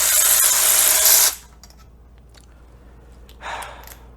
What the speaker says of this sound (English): Let's take off the spark plugs.